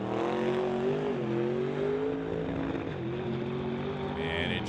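Drag racing car, driven by Josh Brett from West Bank at an NHRA Summit ET Series event, roaring loud and steady with a rising, shifting engine tone under commentary.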